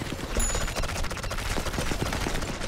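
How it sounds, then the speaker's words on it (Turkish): A machine gun fires in sustained bursts in the video game Sniper Elite 4, a dense rattling fusillade that runs loud and continuous through the whole short stretch. "Allah, taramalı tüfek var."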